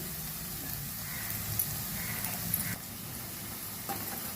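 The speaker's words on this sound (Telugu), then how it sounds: "ఉల్లిపాయలు, బెండకాయలు, పచ్చిమిర్చి అన్నీ బాగా వేగాయండి" Onions, okra and green chillies with a pinch of turmeric sizzle steadily in a pan, a close continuous frying hiss with occasional stirring scrapes and small pops.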